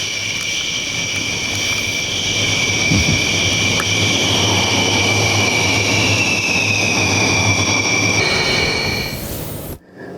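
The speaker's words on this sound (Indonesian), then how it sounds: "ini pesawatnya terbang rendah, derunya juga luar biasa" A loud, steady roar of a low-flying aircraft engine fills the air for about nine seconds with a high whine on top, then fades abruptly.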